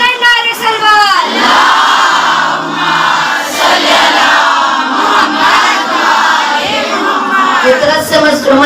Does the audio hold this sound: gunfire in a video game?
no